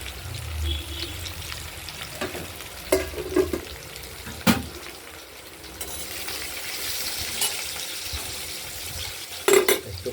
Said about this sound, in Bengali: কচুগুলো ভাজতে একটু সময়ই লাগে